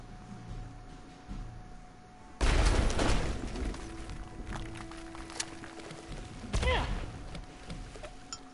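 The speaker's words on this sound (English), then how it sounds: "You like the carpet bomb." A sudden loud blast of carpet bomb explosions in Worms WMD, a cluster of booms and debris rumble rising abruptly then settling, followed by another sharp impact a few seconds later over a quiet game hum.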